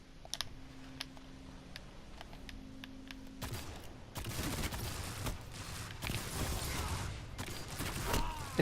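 Shotgun fire comes from the Destiny 2 Rumble game mode: dense, rapid blasts and crackling bursts take over after a few seconds of light, scattered keyboard-like clicks.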